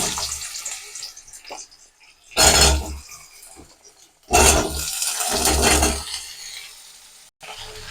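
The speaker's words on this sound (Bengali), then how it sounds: "এবার আমি এর মধ্যে কুমড়ো আর আলু যেটা কেটে রেখেছিলাম, কেটে ভালো করে ধুয়ে রেখেছি, এগুলো দিয়ে দেবো" Washed, cut pumpkin and potato pieces drop into hot oil in a pan, setting off two loud, rushing bursts of hissing sizzle that fade back between additions.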